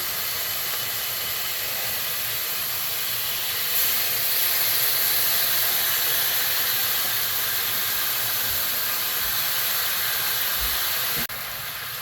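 Meat frying in a cast-iron skillet over a cowboy chuckwagon fire, a continuous steady sizzle and hiss, close and even throughout without talk.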